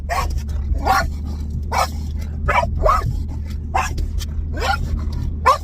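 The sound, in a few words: dog barking in nearby car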